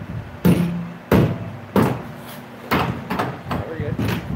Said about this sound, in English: I'm gonna grab the rubber mallet and pop this out.